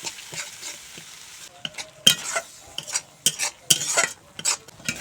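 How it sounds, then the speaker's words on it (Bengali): A spice paste of tomato, cashew paste and yogurt is stirred and fried in a pan for a vegetarian potato and pointed gourd curry: brisk scraping spatula strokes over a steady sizzle, close and loud, with no talking. "এখন ভালো করে মশলা কষিয়ে নেব"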